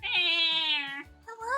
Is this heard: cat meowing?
yes